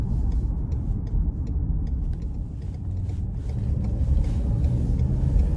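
A 2019 Ford Explorer XLT with a naturally aspirated V6 drives under load, heard from inside the cabin as a steady, dense low rumble with road noise that holds throughout and swells slightly toward the end.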